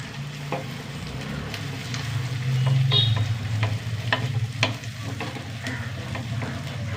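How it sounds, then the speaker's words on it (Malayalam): Onion, ginger and green chili sautéing in a pan, a soft continuous sizzle with a few scattered stirring clicks and scrapes, close and moderately quiet, no voices. "ഉള്ളി ചെറുതായിട്ട് വഴണ്ട് വന്നു ചെറിയ കഷ്ണം ഇഞ്ചി രണ്ട് പച്ചമുളക്"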